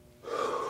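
Heavy, sharp gasping breath during a kettlebell workout, starting abruptly after a brief quiet moment and continuing loud and close for the rest of the moment, with no talking.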